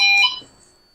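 A smoke detector on a smoke control panel system gives one short, high electronic alarm beep, loud and close, then cuts off into near silence.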